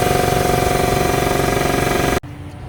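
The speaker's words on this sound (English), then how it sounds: "Yeah, it's filling up pretty fast. I've been wanting a new compressor for years now." An air compressor runs steadily and loud with a droning motor hum for about two seconds, then cuts off abruptly, leaving quieter room tone.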